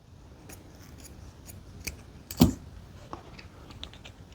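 Scissors snip through Halloween tree decoration material, a few faint, close, crisp clicks and cuts scattered over a quiet background, with one louder snip in the middle.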